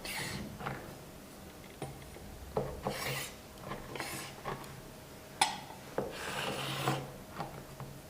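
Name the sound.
knife cutting rolled dough sheet into strips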